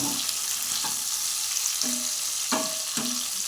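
Eggplant and potatoes fry in hot oil with turmeric and salt, a steady close sizzle punctuated by a handful of spoon scrapes and light knocks against the pan at irregular intervals.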